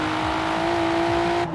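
Game engine audio of a Volvo V60 T6 accelerating in Forza Horizon 4: a loud, steady droning motor tone that holds for over a second, then drops off abruptly.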